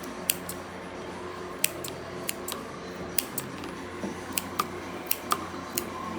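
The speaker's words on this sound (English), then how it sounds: "Keep your scissors on that 45 angle" Quick crisp snips of scissors cutting a Schnauzer's fur, irregular and close, over a low steady background hum.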